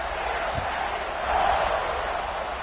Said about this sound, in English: this crowd is feeling themselves after that last drive